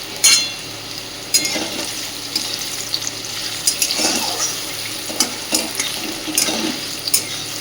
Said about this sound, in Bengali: নেড়ে চেড়ে আলুগুলোকে খুব সুন্দরভাবে ভেজে নিতে হবে।